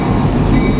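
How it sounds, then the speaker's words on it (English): A train passes near a city council meeting in Lebanon, Oregon, giving a steady loud rumble and roar of rail cars that is close and continuous through the short clip. "record should reflect the train was present."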